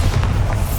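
Bombarda spell explosion in the video game Hogwarts Legacy: a brief, loud, deep boom with heavy low rumble and little high-end detail.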